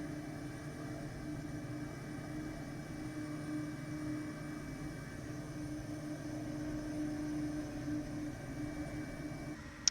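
A Kodiak propeller plane drones steadily in flight in Microsoft Flight Simulator 2020, a constant low hum with an even tonal whine layered over it and no voices.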